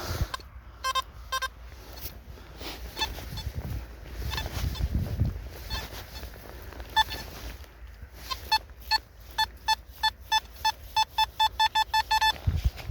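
Short electronic metal detector beeps come in scattered bursts, then turn into a quick repeating series of pulses over faint rustling and digging noise.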